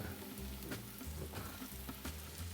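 Chanterelle mushrooms and garlic fry in a pan with a soft, steady sizzle and faint crackle, heard quietly and alone with no talking.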